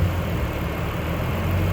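A budget-build car idles with its newly fitted exhaust, giving off a steady, even low rumble that holds without a break and carries no voices over it.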